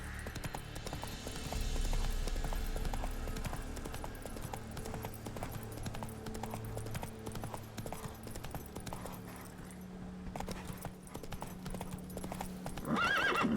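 Roach the horse gallops in The Witcher 3, with rapid rhythmic hoofbeats and snorting whinnies over a low game soundtrack hum.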